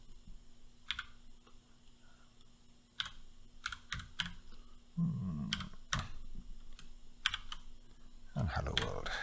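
Someone types code on a computer keyboard, scattered clicky keystrokes coming in short bursts and pauses, with a louder rustle or voice near the middle and at the end.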